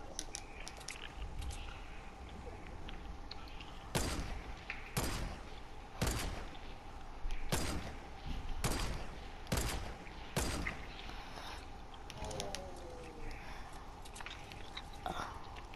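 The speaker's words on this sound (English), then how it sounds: "We're getting shot at." Gunfire in the video game Fortnite, heard as about eight sharp, separate shots spaced roughly a second apart over a quiet game background, with no talk over them.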